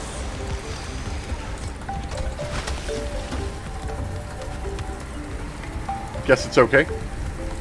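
Hailstorm in the underwater video game Subnautica: Below Zero, a steady patter of ice striking surfaces that runs throughout beneath a brief spoken line, with a few louder knocks near the end.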